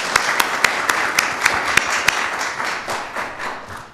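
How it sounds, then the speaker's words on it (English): A room applauding for the First Lady at a White House state dinner press preview, with a few sharp, evenly spaced louder claps standing out over a broad, fading patter of many hands. "let's give another round of applause for the First Lady"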